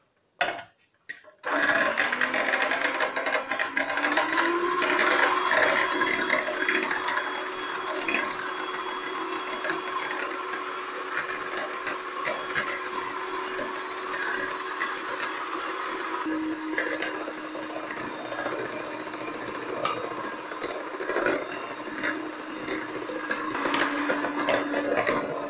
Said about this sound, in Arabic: غادي ندير الكاس ديالي ديال الحليب وغنبدا ندير نزيد هذا الزيت شويه بشويه وانا كنضرب